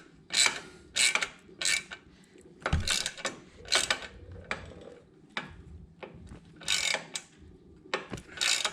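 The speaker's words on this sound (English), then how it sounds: "So we're just going to tighten that up" A bolt is tightened while fitting a Cobra Streetrod Slashdown exhaust to a Honda Shadow Spirit 750 motorcycle. Close, rhythmic ratcheting clicks come in short, regular bursts, with occasional metallic knocks between strokes.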